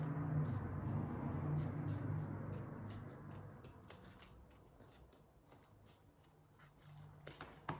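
Scissors cut paper along a wiggly line, a run of quick close snips and rustles that start louder and thin out toward the end.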